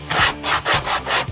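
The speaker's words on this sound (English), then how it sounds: "Just using some 80 grit sandpaper" Wooden block rubbed back and forth on 80 grit sandpaper while shaping wood for an acoustic-to-electric drum conversion, three close, loud rasping strokes in a steady rhythm.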